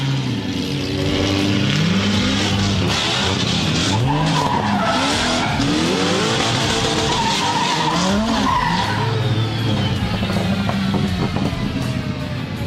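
A drift car skids around the inside of the track at Meremere Drift Park during MSC Challenge NZ qualifying. Loud sustained tire squeal and a revving engine with sweeping pitch changes continue throughout.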